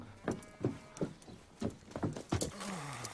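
Horses' hooves clip-clop in an uneven, repeated beat at moderate distance, with a brief low whinny or animal sound near the end.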